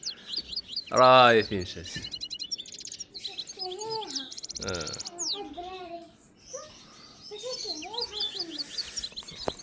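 Red mosaic canary chirping and tweeting in repeated bright trills and short calls, close and fairly loud, with a voice speaking briefly in between.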